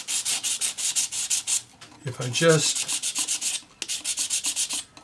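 A sanding stick rubs back and forth over a sheet of copper for rolling mill embossing in rapid, even strokes, close and clear, broken by a brief pause and a short spoken phrase.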